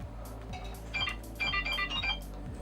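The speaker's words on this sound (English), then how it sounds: "Forgot to turn my phone off." A mobile phone melody plays during a hair styling session, repeating notes in a looping pattern over a steady low hum, moderately loud and close with no talk.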